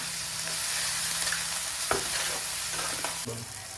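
Fish pieces with chili powder and salt sizzle in a hot pan while a spatula stirs them, giving a steady hiss broken by a couple of sharp scraping knocks.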